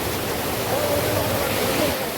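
Floodwater rushes over the Longai river embankment in south Karimganj, a steady broadband roar of torrential flow, loud and continuous throughout with no pauses.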